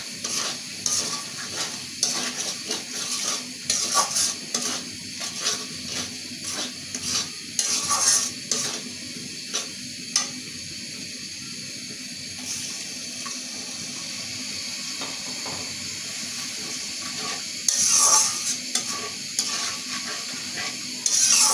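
Spice masala of cumin powder, coriander powder and salt is stir-fried in a pan, giving a continuous close sizzle broken by repeated scraping and stirring strokes throughout.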